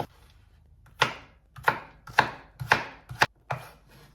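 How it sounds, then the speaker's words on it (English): Knife chopping through a potato on a cutting board, six distinct crisp cuts at a steady, unhurried rhythm, close and clear with no talking. "Now you're gonna start slicing into thin slices."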